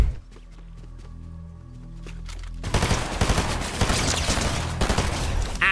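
Video-game gunfire erupts after a quiet stretch with music, a loud sustained automatic burst of close, rapid shots that runs to the end.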